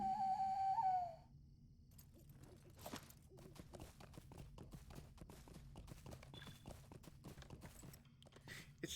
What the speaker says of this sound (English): It's not a particularly impressive whistle.